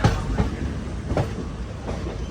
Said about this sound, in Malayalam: എറണാകുളം ജംഗ്ഷൻ റെയിൽവേ സ്റ്റേഷനിലേക്ക് ഇത് എത്തിക്കൊണ്ടിരിക്കുകയാണ്.